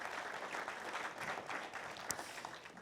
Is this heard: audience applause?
yes